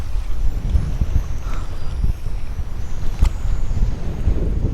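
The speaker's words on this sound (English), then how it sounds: "this wind makes things so difficult" Strong wind blows across the beach at Surfside, Texas, buffeting the microphone with a constant low rumble and gusty thumps throughout.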